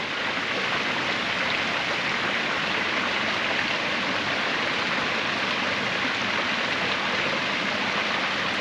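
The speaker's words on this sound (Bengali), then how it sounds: "কৃত্রিম ঝর্ণা বানাইছে দেখছো কত সুন্দর" An artificial waterfall at a bird park in Kuala Lumpur, Malaysia, pours continuously in a dense, constant rushing hiss that stays level and close throughout, with no talking.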